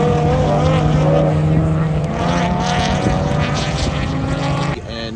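A Honda S2000 race car drifting on a track at a Gridlife event, a loud, sustained engine roar with harmonic whine and tire noise, cutting off sharply near the end.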